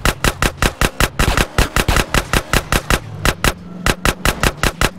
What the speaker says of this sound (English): this dude just shooting random people, too